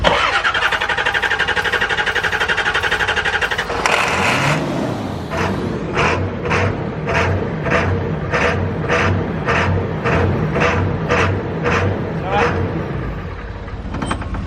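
A truck engine cranks with a steady fast churn, briefly catches and roars on starting fluid, then settles into a rough, loud rhythmic sputter with regular pulses; someone talks over it.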